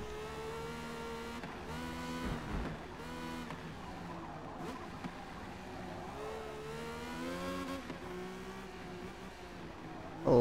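Race car engines roar in the Forza Motorsport racing game at Hockenheimring, a sustained, fairly quiet drone of high-revving engines with rising and falling pitch as cars accelerate and shift, with no talking over it.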